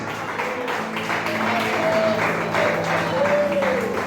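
A church congregation applauds together, a steady dense wash of clapping that carries on for several seconds, with faint voices mixed into the crowd noise.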